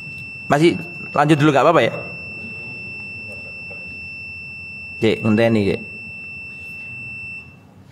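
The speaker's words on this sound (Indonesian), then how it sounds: "Baru setengah jam sudah dikasih sempritan sama alarm ya." An electronic alarm gives a steady, high, thin beeping tone that runs on in the background during a religious lecture, while someone speaks over it in two short bursts.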